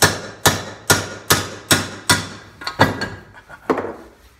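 About ten sharp hammer strikes drive a tool against a bad pinion bearing in the lower unit of a 1963 Johnson 40 hp Electromatic outboard. The blows are close and evenly spaced at first, then come lighter and more irregular.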